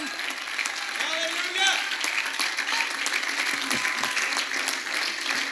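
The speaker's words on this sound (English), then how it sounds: "give the Lord a good hand clap of praise" A church congregation claps in praise during a sermon, a continuous wash of applause heard under voices and faint musical tones.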